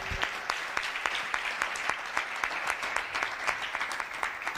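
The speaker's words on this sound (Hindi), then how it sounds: "खुदा के लिए जोरदार तालियां बजाएं।" Church congregation at a sermon claps in an even, rhythmic beat, the sharp claps repeating at a steady pace, moderately quiet and heard from a short distance.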